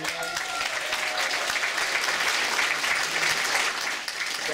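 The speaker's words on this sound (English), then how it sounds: "let's just give a round of applause to the Wentworths for organizing and running the Real World Hero every single year" An audience at a City of Heroes player summit workshop claps in sustained, dense applause, loud and steady throughout, with faint voices underneath.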